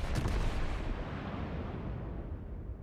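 A battleship's heavy guns fire in World of Warships, a loud, deep boom at the start rolling into a long rumbling tail that slowly fades.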